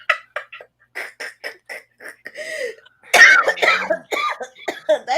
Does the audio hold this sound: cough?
yes